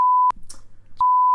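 Electronic censor bleep from an edit: a clean steady tone, then a brief gap with faint low rumble and a short noise, then the tone returns, loud and alone.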